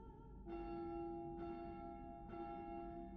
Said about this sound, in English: I heard a ringing of a large bell.